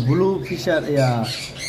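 A green Fischer's opaline lovebird in a breeding cage squawks repeatedly in sharp, close, harsh calls that run almost continuously, with a voice talking underneath.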